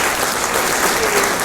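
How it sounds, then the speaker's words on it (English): Loud, close audience applause at a talk about the Hull Jazz Festival, a thick, continuous roar of many hands clapping with a faint murmur of crowd mixed in. "worthy of a round of applause"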